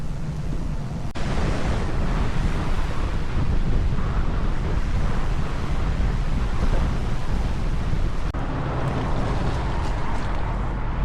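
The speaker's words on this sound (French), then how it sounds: "Le vent restera assez violent toute la journée" Strong wind buffets a microphone outdoors on a cycling trip in Japan, a loud, continuous low roar with gusts that surge and ease throughout, no voices heard.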